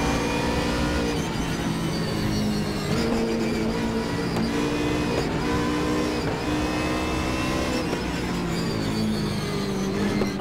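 A Mercedes race car engine in the Raceroom racing game drones loud and steady, pitch rising and dipping with gear changes and throttle, continuous and close with no talking over it.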